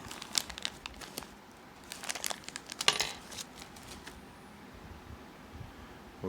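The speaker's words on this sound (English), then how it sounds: "reach in this bag and take this O-ring out" A small plastic bag crinkles and rustles in short, faint bursts up close as an O-ring is pulled out of it during work on a ratchet, with quiet pauses between the handling sounds.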